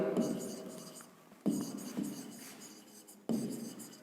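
Handwriting on a surface, scratchy pen or marker strokes coming in short bursts that restart every second or two, close and fairly quiet, with faint breathy vocal sounds between.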